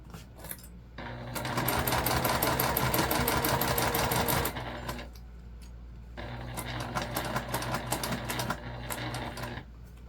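A sewing machine stitches a summer beach pouch in two steady, rapid runs of needle clatter with a brief slower pause over the zipper between them, close and alone.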